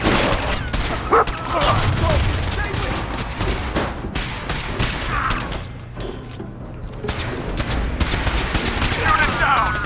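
Dense gunfire in the Fallout 4 video game during a firefight with mutants: rapid volleys and machine-gun bursts crackling continuously and loudly, with shouted voices mixed in.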